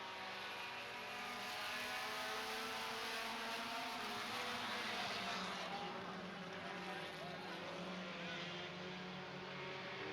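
Four-cylinder stock cars race around a short track in a heat, a steady loud drone of engines with fluctuating pitch, some speech faintly over the din.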